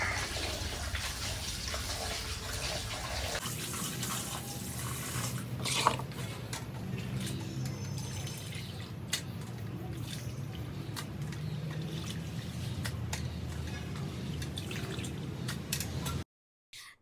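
Pork pieces are washed in water for a large batch of about 10 kg, with steady splashing and sloshing close by throughout, ending abruptly.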